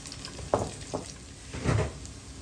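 Garlic and onion sauté in oil for Filipino beef humba, a faint sizzle broken by a few brief bursts of stirring within a couple of seconds.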